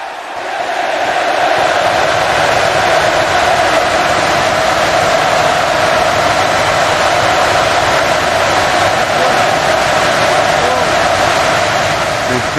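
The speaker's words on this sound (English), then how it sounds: "The crowd just went wild right there." Roar of a virtual arena crowd at a Roblox WWE wrestling match, WrestleMania Backlash in Atlanta, swelling up quickly and then holding as a loud, dense, sustained cheer throughout.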